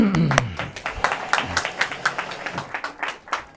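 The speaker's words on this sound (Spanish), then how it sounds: "Le damos un aplauso, por favor." An audience at a public health course claps for a speaker, a loose patter of hands from a small crowd that thins out over a few seconds, with a voice briefly heard at the start.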